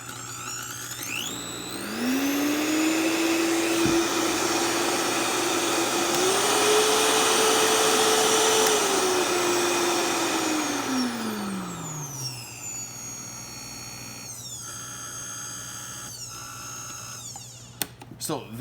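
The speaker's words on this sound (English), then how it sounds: "This is called the VitaPrep from Vitamix." A Vitamix VitaPrep blender runs on variable speed, whirring up from low to a loud, steady high-pitched roar and holding there. The pitch then ramps down as it slows and stops, followed by faint clicks and handling noises.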